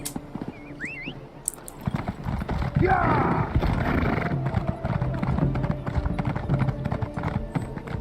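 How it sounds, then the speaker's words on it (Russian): A horse in The Elder Scrolls Online clip-clops along at a steady gallop, hooves thudding close and rhythmic with a neigh near the start, under game effects. "Ладно, придется на лошадке идти."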